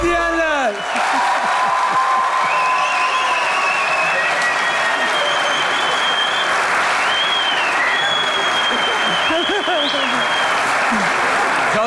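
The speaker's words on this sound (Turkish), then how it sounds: "Evet, alkışlıyoruz, bravo." Steady, sustained applause from a crowd, with scattered cheers and whistles over the clapping and voices calling out now and then.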